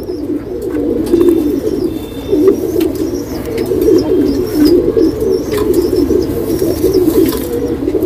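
Geerva male pigeon cooing in low, continuous throaty rolls, close and steady across the whole stretch, with faint higher chirps behind it.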